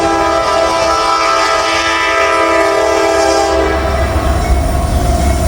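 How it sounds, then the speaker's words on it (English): Grain freight train passing close by in Marion, a loud, steady rumble and rail noise with a sustained horn sounding over it before the horn drops away, leaving heavy low rolling noise. "It's like a grain train."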